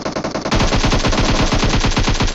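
Automatic gunfire in a mobile battle royale game erupts as a loud, sustained rapid burst of evenly spaced shots, preceded by a few scattered single shots.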